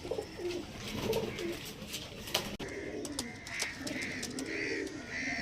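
Several domestic pigeons, Andhra Kalshira Punjabi high-flyers, coo in low rolling phrases close by, mixed with scattered sharp clicks and a sudden knock near the middle.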